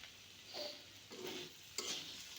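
Vegetable bhaji frying in a pan, with a soft, fairly faint sizzle broken by three stirring strokes of a utensil scraping through the food, no talking.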